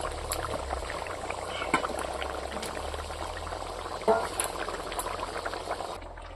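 A pot of pangas fish curry gravy with ash gourd and mustard paste boiling, a close, steady bubbling simmer with scattered pops and a slightly louder burble near the middle.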